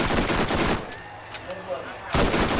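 SMG gunfire rattles in Borderlands, a rapid loud burst of automatic shots, then a brief lull with faint game sounds before another dense close burst erupts.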